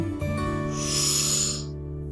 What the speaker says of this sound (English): Now, take a deep breath in